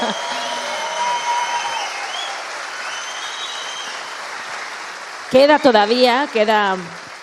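Steady applause from an audience fills most of the clip, then a voice cuts in near the end.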